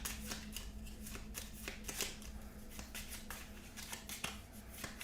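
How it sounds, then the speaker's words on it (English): Kingsport Festival board game cards, the level 2 deck, being shuffled by hand: a steady run of crisp riffling clicks and papery flutters, close and alone, with no talk. "We get all the level 2s. And we shuffle them up."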